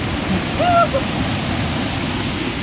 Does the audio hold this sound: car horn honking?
no